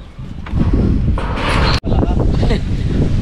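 Strong wind roars across a large open plot of land, a loud continuous gusting rumble that keeps blowing with only a brief drop.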